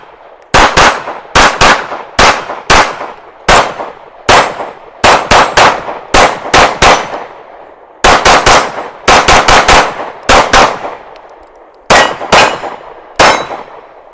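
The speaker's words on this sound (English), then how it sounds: "First couple rounds out of the Live Free Armory Apollo 11." Sharp, loud shots from a Live Free Armory Apollo 11 2011 pistol at a range, fired in quick clusters of two to four with brief pauses between strings, each crack ringing with a metallic decay.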